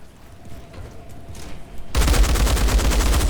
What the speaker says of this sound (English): Oh, this gun shreds now.